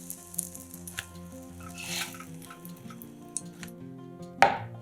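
Hot open sandwiches on sliced loaf bread fry in a pan, giving a steady soft sizzle with occasional light clinks of utensils and a sharper metallic tap near the end.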